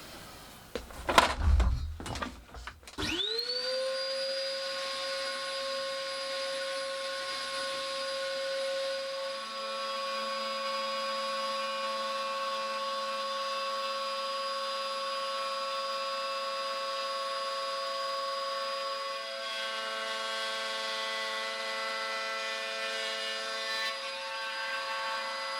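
A power tool trims the surround of a nosecone mould in a small shed, starting with clattering handling noise, then spinning up into a steady high-pitched whine that holds for over twenty seconds.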